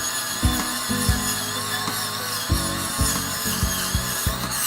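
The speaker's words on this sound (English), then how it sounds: "You just keep on working at it, blending and sanding" A carved wooden shark figure is power sanded to blend its surfaces, the tool whining steadily and close with repeated short thumps and scrapes as the sander works the piece; no one speaks.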